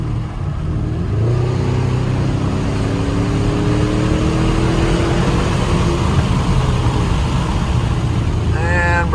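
A 2011 Porsche Cayenne Turbo SUV engine droning and rising under steady driving, with a sustained rev swelling mid-clip over road noise, heard from inside the cabin.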